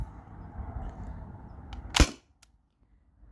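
A single sharp, loud crack from a T4E TR68 marker fitted with a 1mm drilled restrictor cuts through a low rumbling background, followed by a faint click and near silence.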